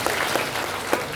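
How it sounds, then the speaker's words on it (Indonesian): Steady clapping from an audience at an Islamic religious gathering, dense and continuous with a few sharper claps standing out, heard without any voices over it. "Tepuk tangan tah Allah abad."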